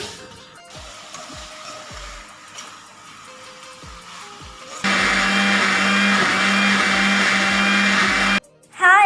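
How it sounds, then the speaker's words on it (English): A kitchen mixer grinder starts up, its whirring motor and spinning sharp blades grinding ingredients in a loud, steady roar that runs for several seconds after quieter clatter, then cuts off abruptly. "the sharp blades of mixer grinder starts to rotate, which mixes and grinds the ingredients"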